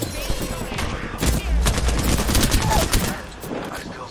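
Rapid bursts of automatic gunfire from Apex Legends season 12 on Nintendo Switch, dense overlapping shots crackling loudly and continuously through the whole stretch with a few heavier impacts.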